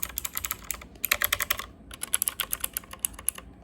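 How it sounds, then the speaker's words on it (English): Rapid clicky keystrokes on a Rapoo V500 Pro computer keyboard, typed in quick bursts with brief pauses, close and crisp. "let's see how the keyboard sounds"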